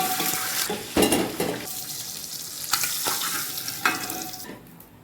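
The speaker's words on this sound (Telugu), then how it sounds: "ఎగ్స్ మంచిగా బ్రౌన్ కలర్ వచ్చాక ఫ్రై చేసుకోవాలి ఆయిల్లో చూడండి ఫ్రై అవుతున్నాయి" Eggs frying in hot oil in a pan while biryani is being made, a loud steady close sizzle with a few scraping stirs, no voices.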